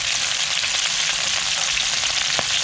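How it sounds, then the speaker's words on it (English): Whiting fillets fry in a pan, a loud steady close-up sizzle that stays constant throughout with no talking. "Let that cook away. Just let it slowly cook there like that."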